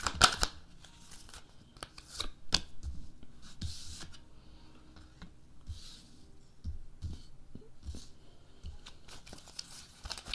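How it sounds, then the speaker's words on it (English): Tarot cards being shuffled close up, with irregular papery riffles, flicks and soft taps over quiet room tone. "start with the shuffle"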